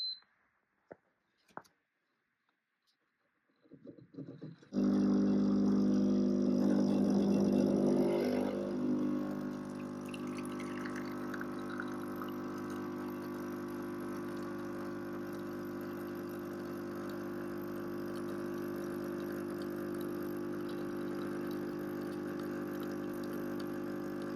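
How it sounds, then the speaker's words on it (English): A Ninja Cafe Luxe Premier Series coffee machine: a few faint beeps and clicks in near silence, then its pump starts with a steady, droning hum and a brief hissing surge as espresso brews, running on evenly to the end. "So start brew, and then also start froth."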